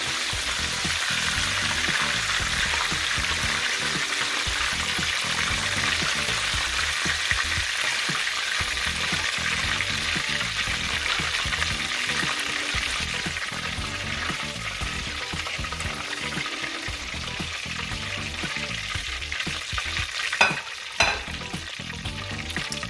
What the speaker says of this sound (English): I'm frying the ones without eggs.